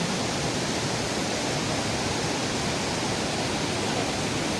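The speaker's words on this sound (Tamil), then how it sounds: "இந்த பக்கம் வீடு பாருங்க, ஒரு வீடு, வீட்டுக்கு பக்கத்தில் ஒரு அருவி" A waterfall beside a house in Kotdwar, Uttarakhand roars as a loud, dense, unbroken rush of falling water, steady throughout with no voices.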